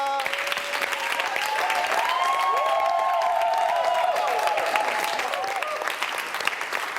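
An audience in a church claps and cheers after a mixed choir performance, a sustained wash of applause with voices calling out through it.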